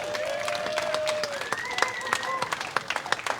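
A room of listeners applauding a speaker at a coffee and beer venue, continuous clapping with some whistling mixed in, the applause breaking up into sparser claps toward the end.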